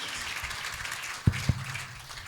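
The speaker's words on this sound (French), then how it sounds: "Si on peut applaudir pour nos panélistes," Applause for panelists at the AfricArena Kinshasa Summit panel discussion: faint, steady clapping from the audience, with two soft thumps partway through.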